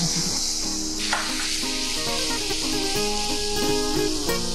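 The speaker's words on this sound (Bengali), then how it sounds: "এটাকে ভালো করে এবার ভাজতে হবে। মশলাটা কষিয়ে নেব।" Spice paste of garlic, onion and green chili frying in a pan for bottle gourd chicken curry, a constant close sizzle and hiss with light stirring clinks, no talking.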